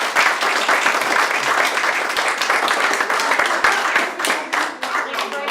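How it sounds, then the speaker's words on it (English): A seated audience applauds the speaker Brian after a talk about snakes, giving loud, sustained clapping from many hands that thins slightly toward the end, with some voices mixed in. "if we can please have a huge round of applause for Brian"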